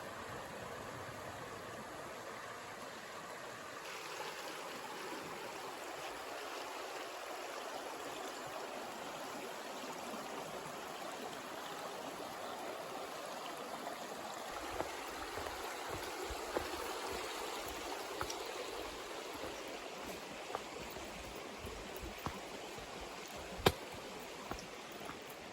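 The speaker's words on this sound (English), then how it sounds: "Look at this winding river." A winding river in Vermont along the Appalachian Trail flows with a steady, soft rushing wash heard from nearby. A few faint ticks and knocks break through near the end, and no one talks.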